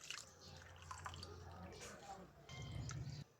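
Second-pressing coconut milk squeezed from grated coconut through a strainer, splashing and dripping into a bowl for beef rendang, close and moderately loud, with a steadier pour near the end.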